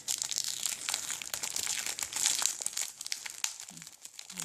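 Plastic packaging holding stickers and felt crinkles and crunches steadily as it is torn open by hand, close and continuous for several seconds with no talking.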